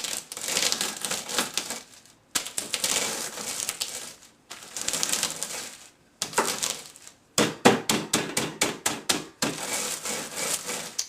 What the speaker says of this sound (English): you want to thoroughly crush all of the beans inside the plastic bag